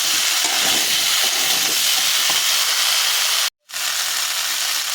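Drumstick pods being stirred in a frying pan for a pumpkin and potato curry, a steady close sizzling hiss with scraping clicks of the spatula, cut off by a brief gap of silence before the frying resumes.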